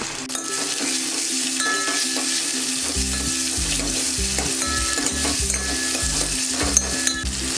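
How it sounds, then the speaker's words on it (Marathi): Green chillies, half a tomato and curry leaves fry with cumin in a hot pan, a loud steady sizzle running throughout, with a spoon scraping and stirring in repeated strokes and soft clinks of the pan. "2 हिरव्या मिरच्या, अर्धा टोमॅटो व्यवस्थित मिक्स करूया। 2 ते 3 कढीपत्त्याची पानं"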